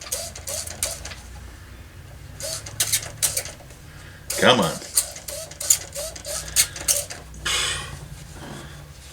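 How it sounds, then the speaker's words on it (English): Repeated plastic clicking and squirting of a spray bottle trigger in uneven bursts, with a brief spoken remark between pumps. "I swear this is the worst spray bottle I've ever had."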